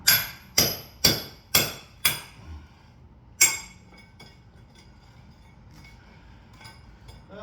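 A hammer strikes a chisel while knocking out a fireplace wall, five sharp ringing metallic blows in a steady rhythm, then one more after a pause, followed by faint clinks and rubble settling nearby.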